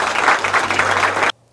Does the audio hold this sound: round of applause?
yes